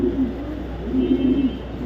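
Racing pigeons coo in low, rolling phrases, one close bird repeating a throaty call twice over a faint background hum, without speech.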